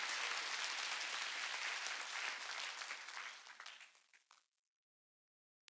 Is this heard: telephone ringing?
no